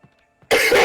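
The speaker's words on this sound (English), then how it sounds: "you scared me with that cough" A single harsh cough bursts out at close range in the Alan Wake video game, preceded by a couple of faint throat sounds.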